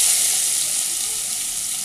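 Chopped onion fries in oil for a crab curry, a dense, even hiss of sizzling close by that barely changes over the short moment, no speech.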